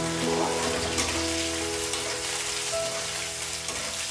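Chopped garlic and chilies fry in hot oil for crispy gobhi chilli, a loud, dense, continuous sizzle and crackle with some stirring noise, no talking.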